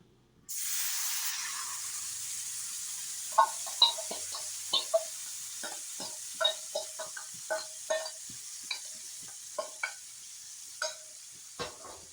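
Mutton marinated for two hours hits hot oil for a Bengali curry, bursting into a loud, sudden hiss that settles into steady frying, then a utensil clatters and scrapes against the pan in irregular knocks.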